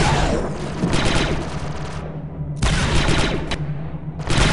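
Gunfire in the Star Wars Republic Commando video game: loud, rapid automatic bursts of blaster fire, close and sustained, breaking off briefly twice before resuming, with no talk.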